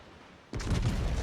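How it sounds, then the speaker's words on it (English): A warship in World of Warships fires its guns, a sudden deep boom after a quiet moment that rumbles on loudly with a heavy low-end roar. "And then fires his guns."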